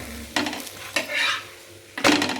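A paratha coated with egg is pressed down and fried in a pan, giving three sharp sizzling bursts with softer frying hiss between them, close and fairly loud, with no voices.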